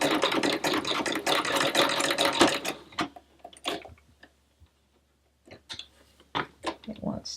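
A sewing machine fitted with an overcast presser foot stitches along a raw fabric edge, running in a loud steady mechanical burst for about three seconds, then stopping and giving a few short, quieter stitch runs and clicks.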